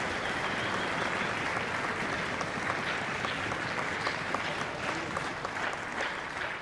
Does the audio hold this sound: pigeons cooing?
no